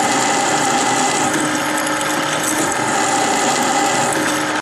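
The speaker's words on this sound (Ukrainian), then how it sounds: "Після чого планую 12-тим сверлом сверлити." A drill with a 12 mm bit bores through a front suspension part from a VW T3, a loud, continuous high-pitched grinding whine that holds steady and then cuts off at the end.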